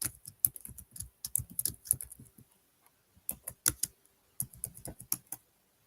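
Bursts of brisk typing on a computer keyboard, close and fairly quiet, with irregular clicky keystrokes broken by short pauses.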